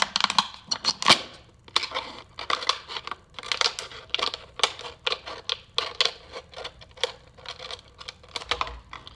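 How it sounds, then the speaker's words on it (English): Scissors cut a plastic water bottle in half, giving a rapid series of close, crisp snips and crinkles of plastic with short pauses between them. "I just cut that with my scissors."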